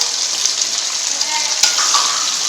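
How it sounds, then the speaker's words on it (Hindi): Chicken pieces frying in hot oil in a karahi, a steady loud sizzle with a brief crackle and faint stirring, no talk. "चिकन को हमने इसमें डाल दिया है, इसको करेंगे अच्छे से फ्राई।"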